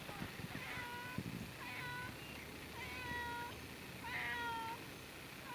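A cat meows repeatedly outdoors in a garden, several drawn-out, insistent cries spaced a second or so apart, moderately close over steady background noise and rustling.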